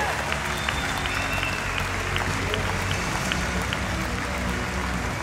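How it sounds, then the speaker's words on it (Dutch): Applause from a crowd at a stallion show greeting a five-time champion stallion, a steady dense wash of clapping lasting several seconds with a loud PA announcer talking over it. "dat applaus mag harder."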